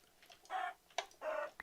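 Chicken in the block-building city game Blocks: Tales of a City giving two short, faint clucks with clicky ticks between them, quiet and close, with no talking.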